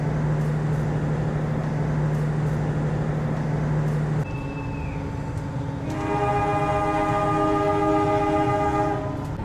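A Mutiara Timur panoramic passenger train at Pasuruan station rumbles steadily, then a long multi-tone horn sounds loudly and holds for several seconds near the listener.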